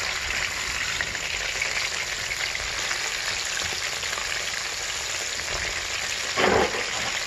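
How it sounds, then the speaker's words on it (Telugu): Chicken pakoda pieces fry in hot oil with a dense, even, rain-like sizzle throughout, close and loud, broken near the end by one brief scrape of a ladle. "వేగనివ్వాలి ఆయిల్లో."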